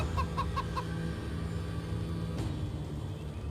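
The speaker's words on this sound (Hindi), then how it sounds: "ये है ना असील मुर्गा, नस्ली।" An Aseel rooster, a purebred fighting cock, gives a few short clucks near the start. A steady low hum runs beneath the calls, and no one speaks.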